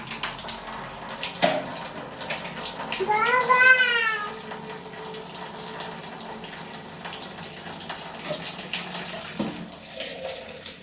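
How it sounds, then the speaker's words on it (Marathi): Water runs and splashes into a tub as a baby is bathed in cold water, with a short high-pitched child's squeal partway through and faint voices in the background. "बेबी आंघोळ करते, थंड पाण्याने आंघोळ करते बेबी"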